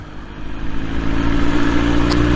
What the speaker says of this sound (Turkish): Ses harika. Bu bir de egzozun açılmamış hali.